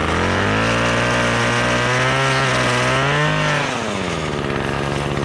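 A new pole saw engine, still being broken in, drones steadily and loudly up close while clearing brush, its pitch rising and falling slightly as the throttle is eased and held back.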